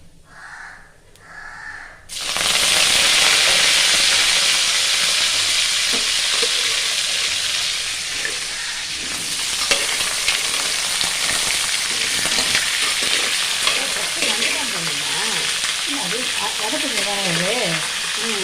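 Crab dropped into hot oil with fennel seeds and curry leaves bursts into loud, steady sizzling after a quieter opening, with stirring scrapes, occasional spatters and faint background voices.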